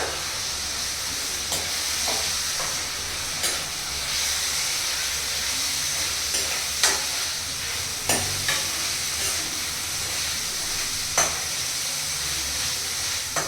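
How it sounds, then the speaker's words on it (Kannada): Onions frying in a pan make a continuous loud sizzle and hiss, with scattered clicks and scrapes of a spoon stirring throughout and no talking. "ಇವಾಗ ಈರುಳ್ಳಿ ಹಾಕೋಣ. ಹಾಕೋಣ. ಇದೇ 2 ಮಿನಿಟ್ಸ್ ಫ್ರೈ ಮಾಡೋಣ"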